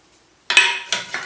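Potatoes tossed with salt, turmeric and black pepper in a dish, heard as a burst of close, bright clattering and scraping after a near-silent start, followed by two or three shorter stirring clinks.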